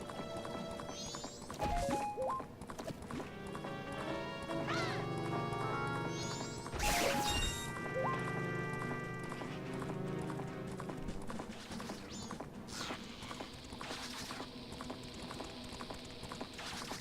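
Epona the horse galloping in the video game The Legend of Zelda: Majora's Mask, rhythmic clip-clop hoofbeats running under game music and chiming effects, with a few louder crash-like hits.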